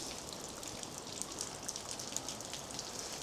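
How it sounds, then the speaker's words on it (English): Rain falls steadily outdoors in a soft, dense hiss, with scattered louder drops pattering close by. No voices. "That I have to go outside in the rain and stand in the rain."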